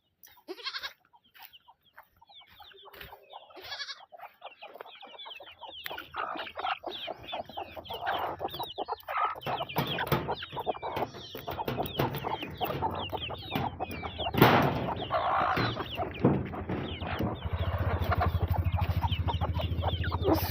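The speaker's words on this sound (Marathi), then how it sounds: "आता जाता त्या मोठ्या कोंबड्या पण सोडायच्या" A busy flock of large hens clucking and cackling, growing louder and denser after a quiet start, with other farm animal calls mixed in.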